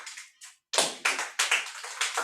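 A classroom of students claps during a maths lesson, a short burst of uneven, overlapping hand claps from several people nearby, starting faintly and then swelling into a louder run of ragged applause.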